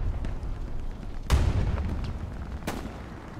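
Two sharp, booming blasts about a second and a half apart cut through a low, rumbling battlefield din of bombing and gunfire in the WWII shooter Hell Let Loose, each followed by a fading rumble.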